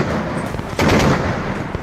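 Gunfire and explosions from Afghanistan–Pakistan war news footage come as loud, dense, crackling bursts and booms that overlap in a rough barrage.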